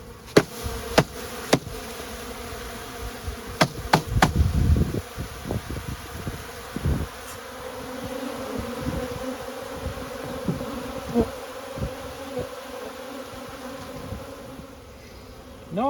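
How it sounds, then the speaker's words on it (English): Dense, continuous buzzing of many honey bees close by in a hive, with occasional clicks and knocks. "Lots of bees."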